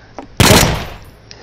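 A single loud, close gunshot, a sharp crack that decays over about half a second, with faint shuffling before and after.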